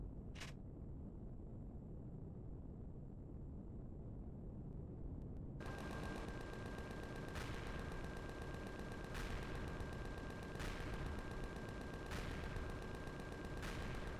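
Gatling guns on a ship in Empyrion Reforged Eden sit silent for about five seconds under a steady hum, then open into sustained, dense fire marked by regular heavier bursts until the end.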